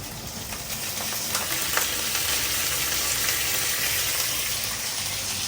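Fennel seeds and curry leaves frying in hot oil for a vegetable curry, a loud continuous hissing sizzle with faint crackles, steady throughout and with no talking.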